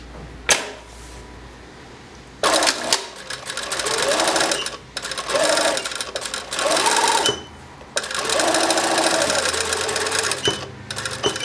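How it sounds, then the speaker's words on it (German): A lockstitch sewing machine stitching bridal dress fabric with cotton thread runs in loud, close bursts of rapid mechanical chatter, starting and stopping several times with short pauses between runs. "Die Brautkleidschneiderin näht die Stoffteile mit einer Steppmaschine zusammen."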